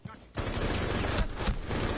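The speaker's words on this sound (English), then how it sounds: "Oh, I hear gunfire." Rapid bursts of video game automatic gunfire crackle continuously, loud and dense, with a couple of sharper shots standing out.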